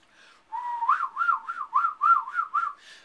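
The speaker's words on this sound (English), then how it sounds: "the rat laughter vocalization is very rapid." Rat laughter, a rapid ultrasonic chirping call slowed down into the human hearing range, comes through as a rising whistle followed by a quick series of warbling, evenly spaced trills, clear and close.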